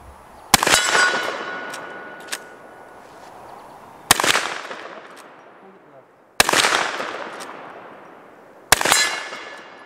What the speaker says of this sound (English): we're gonna take it out to 60 yards and see how much we can beat up on the 60 yard steel